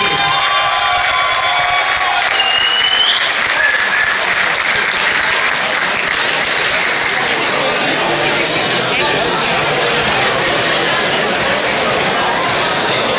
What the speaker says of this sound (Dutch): Geven we een geweldig applaus voor Sjoerd I.